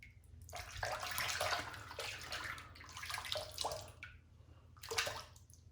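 Water is added to a shaving soap and brush, heard as soft, close splashing and trickling in several uneven surges with short pauses, with no voices.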